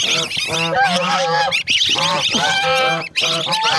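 Goslings and chicks honk and peep continuously up close, a dense chorus of shrill, overlapping calls with brief pauses.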